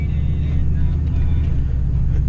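A turbo Chevrolet Silverado pickup with a 4L80 transmission drives along with a steady low engine rumble and road drone, close and constant inside the cab.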